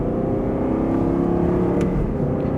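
An Aston Martin V8 Vantage S drones loudly and steadily under acceleration on a winding Portuguese road, the engine note shifting briefly as it changes up a gear, with no talking.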